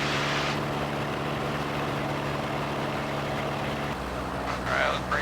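An aircraft engine runs at full power at about 250 RPM in a loud, steady drone with a strong low hum throughout. The pitch drops slightly near the end, and brief faint tones rise over the noise.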